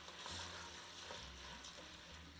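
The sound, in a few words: stirring rice in a pot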